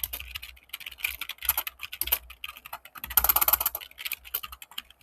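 Steady typing of code on a computer keyboard, a close, busy patter of key clicks in uneven bursts with a denser flurry near the middle, no voice.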